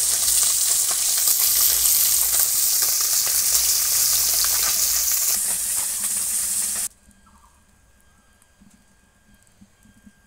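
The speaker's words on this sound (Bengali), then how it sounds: "বেগুনটা ভেজে নিচ্ছি।" Eggplant slices sizzle loudly in hot oil on a home stove, a dense, steady crackling hiss that stops abruptly partway through and leaves a faint, quiet room.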